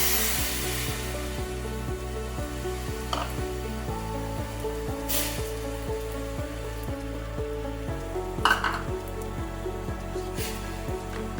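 Tamarind, dates and jaggery cook in a hot pan with a steady sizzle and patter, under a constant tonal hum and a few louder crackles.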